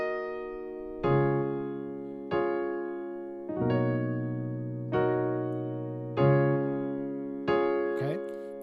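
Piano plays part 2 of a song, a slow run of sustained chords struck about once every second or so, each ringing out and fading before the next, quiet and unaccompanied.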